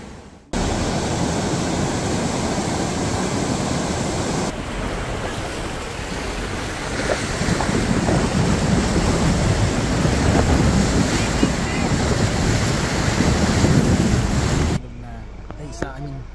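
Water rushes steadily through a deep river at Masanga Point in General Nakar, Quezon, a broad, continuous wash of flow heard close up for most of the clip with wind buffeting the microphone.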